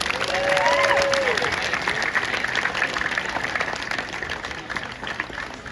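An audience applauds steadily for a senior swimmer at a swim team event, a broad wash of clapping with some crowd noise and a few faint voices, holding fairly even before easing slightly toward the end.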